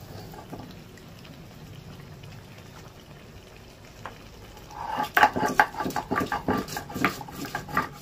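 Chicken curry with bone-in pieces simmering in a pot, a low bubbling at first that turns into louder, busy popping and spluttering bursts in the second half.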